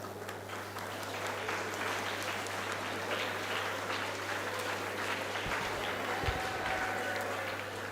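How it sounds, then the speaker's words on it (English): Sustained audience applause fills a large hall at a ceremony honouring an inventor, a dense steady wash of clapping with a low constant hum underneath and no talk. "Let us all shower him with a great round of applause."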